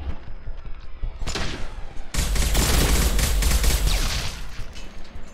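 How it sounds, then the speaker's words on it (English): Assault rifle gunfire in the video game Mass Effect 2, a loud sustained burst of rapid shots starting after a brief opening volley, with heavy low-end impact, alone without talk. "Let's get the assault rifle out."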